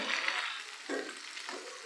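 Turmeric, salt and red chili powder stirred into hot oil in a pan for bhindi masala fry, giving a steady close sizzle broken by a few soft stirring scrapes.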